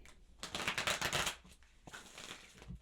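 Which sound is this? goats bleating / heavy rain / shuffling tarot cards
shuffling tarot cards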